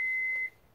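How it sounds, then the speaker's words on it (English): 2018 Toyota Highlander giving a single short electronic beep while its window fails to go down, clear and steady, then cutting off into quiet. "it won't go down, it'll just beep twice"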